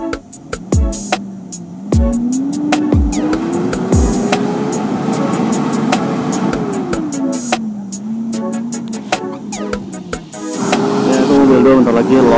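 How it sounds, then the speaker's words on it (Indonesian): A vehicle stuck on a rough, muddy rural road with its engine revving, pitch rising and falling in long sustained pulls over repeated sharp knocks and clatter, loud and close throughout. "Mobil kedua kita juga stuck guys."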